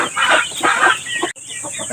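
Young chickens cluck busily and close by just after feeding, a dense run of overlapping clucks with a short pause before the chatter resumes.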